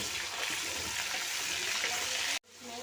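Water poured steadily into a pot of frozen minced meat as it cooks, a continuous loud gushing hiss that cuts off abruptly near the end.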